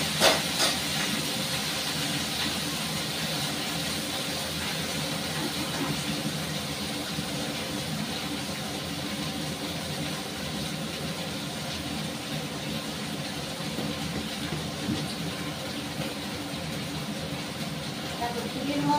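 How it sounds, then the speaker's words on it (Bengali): Washed leafy greens tip into hot oil with garlic fried red, giving a steady, loud hiss and sizzle that holds evenly throughout, close to the pan. "তাহলে এখন আমি এই শাকটা ভাজবো।"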